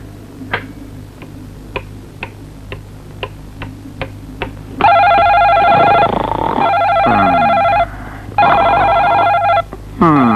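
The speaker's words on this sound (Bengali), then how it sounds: "টেলিফোন ধরছে না কেন?" An old-style telephone rings in loud repeated trilling bursts after a run of regular clock-like ticks, close and dominant with no voices.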